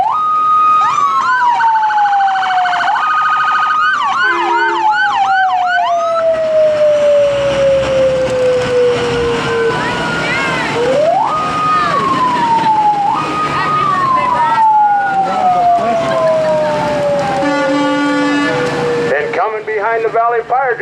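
Fire district trucks and a volunteer ambulance in a rodeo parade sound loud wailing sirens that rise and fall repeatedly nearby, with air horn blasts mixed in and an announcer talking underneath.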